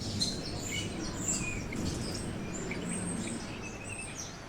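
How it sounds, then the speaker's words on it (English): Birds chirp in the trees above a neighbourhood: faint, scattered high tweets from several birds overlapping over a soft, low background hum. "Above their heads, they heard the sounds of birds chirping,"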